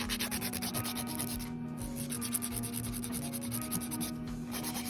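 A nail file rubs back and forth over poly gel nails in quick, steady strokes, a soft, continuous scratchy rasp heard close up with no talking.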